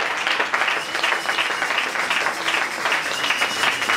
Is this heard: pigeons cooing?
no